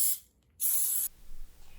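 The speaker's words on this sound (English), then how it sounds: "Be sure that you spray these muffin tins with a nonstick cooking spray" Two short bursts of nonstick cooking spray hissing close by onto a muffin tin, with a brief pause between them, followed by faint clicking.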